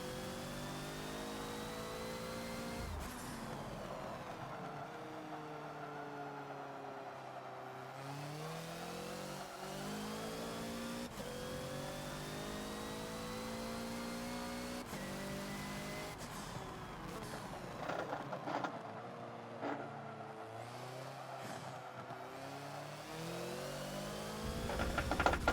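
A Hoonigan Ford Focus race car in the Forza video game accelerates hard on a circuit. Its engine revs climb repeatedly through gear shifts in a steady, continuous drone with no talking.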